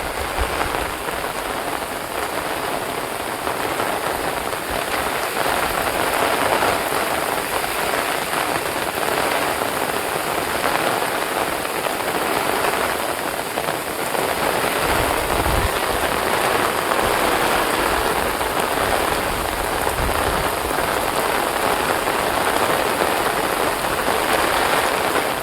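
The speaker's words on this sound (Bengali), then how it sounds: "প্রবল বৃষ্টি হচ্ছে।" Heavy monsoon rain pours over a Sundarban village at the forest's edge, beside a small hut with tin sheeting. A loud, dense, steady downpour drums on surfaces throughout, with no voices.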